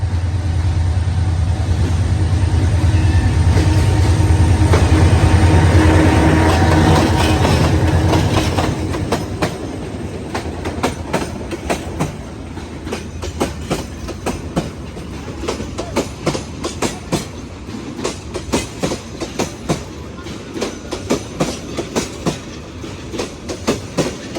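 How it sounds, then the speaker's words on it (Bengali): A train passing through Lawachara National Park forest near Srimangal: a loud, close rumbling engine roar gives way to a long run of rhythmic clickety-clack as wagons roll by. "ট্রেন আসতেছে"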